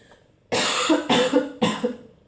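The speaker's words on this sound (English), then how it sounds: "I'm going to cough, sorry" Three harsh coughs come in quick succession, close and loud, each a sharp burst of breathy noise, following a quiet moment.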